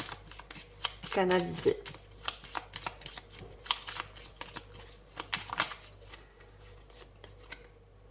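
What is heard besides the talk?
shuffling and drawing oracle cards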